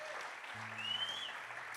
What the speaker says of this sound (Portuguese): Aplaude Jesus mais alto, que Ele está nesse lugar